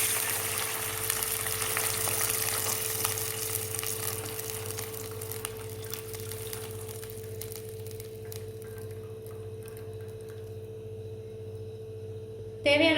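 Soaking water from white sorghum rava is poured onto fried onions in a hot pan for upma, producing a loud, steady sizzle and hiss that gradually quietens as the water heats.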